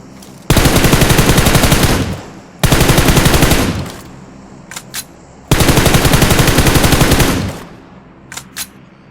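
Rapid VSS rifle fire in the battle royale game PUBG Mobile, heard as three loud sustained bursts of fast repeating shots, each about one to two seconds long, separated by short pauses with faint clicks in between.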